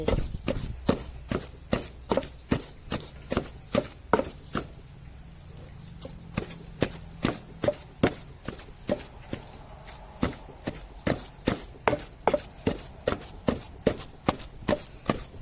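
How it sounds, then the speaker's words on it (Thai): A pestle pounds ingredients in a mortar for Thai om khi lek curry, producing sharp, close thuds in a steady rhythm roughly two to three times per second, with occasional short pauses. "ตำให้เข้ากันตำให้มัน แหลกๆ"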